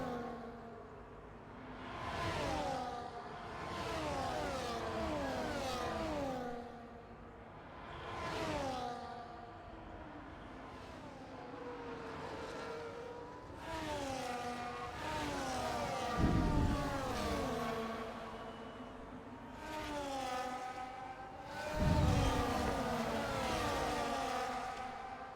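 Race cars on a wet Monza track in a racing game drone past in repeated rising and falling engine passes, some near and some distant, each swelling and fading, with a couple of sharper thuds along the way.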